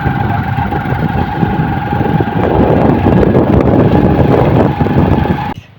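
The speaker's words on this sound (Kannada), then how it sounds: "ಭುವನ ವಜ್ರ ಬೈಕ್ ತಗೊಂಡು ಹೋಗ್ತಾ ಇದ್ದಾರೆ" Motorbike engine running steadily as friends ride off outdoors after rain, a constant mid-pitched drone with wind buffeting, swelling slightly louder midway before cutting off abruptly at the end.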